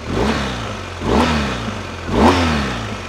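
Motorcycle engine revved in three separate bursts, each rising then falling back toward idle, loud and close with no talk over it.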